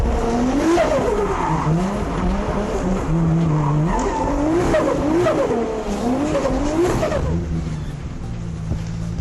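A car drifting on a UK track with clutch kicking, its engine revving up and down in wavering surges while the tyres squeal and skid continuously, loud and close throughout.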